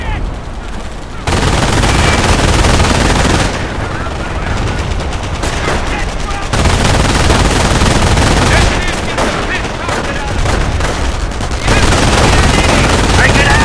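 Sustained automatic gunfire in the World War II strategy game Company of Heroes, loud and near, with dense rattling bursts broken by brief pauses over about fourteen seconds.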